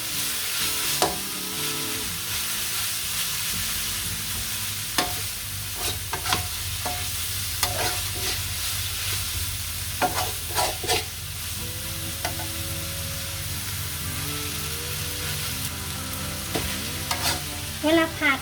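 Bean sprouts and vegetables sizzle and crackle in a hot wok, with intermittent scraping and tossing of a spatula throughout, steady and close, no voices.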